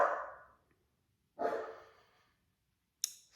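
A foster dog barks three times indoors, two full, loud barks about a second apart followed by a short, sharp yip at the end, with quiet gaps between and no talking.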